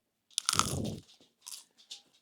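Someone bites into a crispy-outside snack from Dreena's Kind Kitchen, an alternative to potato chips: one loud close crunch, then a few softer chewing crackles.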